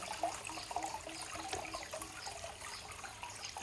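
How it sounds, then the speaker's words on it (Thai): Water runs and trickles steadily in a broad hiss with some splashing, a small cascade heard close and fairly quiet, without voices. "น้ำตก"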